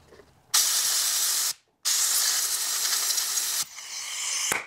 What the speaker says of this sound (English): Now you're going to want this to either air dry or use just compressed air to dry it up